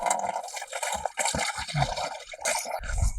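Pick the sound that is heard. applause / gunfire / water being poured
water being poured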